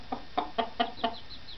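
Four young orphaned chicks give a quick run of about five soft, close chirps, faint and evenly spaced.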